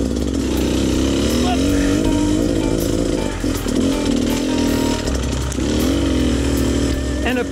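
An enduro motorcycle's engine revs hard and steadily while its rear wheel spins in place in a tight off-road spot, a loud, close, buzzing drone that holds its pitch with brief dips.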